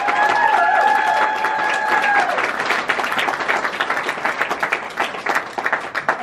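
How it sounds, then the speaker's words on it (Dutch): A crowd at a book launch breaks into loud applause with some cheering, a full roar of clapping that turns choppier and more rhythmic toward the end, while a whistle-like tone sounds briefly at the start. "Ik wil dat doen onder een luid applaus."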